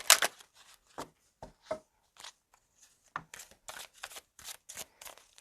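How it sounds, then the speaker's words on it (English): Tarot cards being shuffled by hand make a sparse series of short, crisp riffling snaps and taps, close and quiet, with no talking. "One more shuffle."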